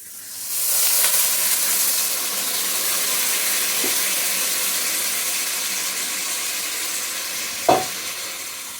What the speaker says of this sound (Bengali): জল দেওয়ার জন্য দিয়ে দিচ্ছি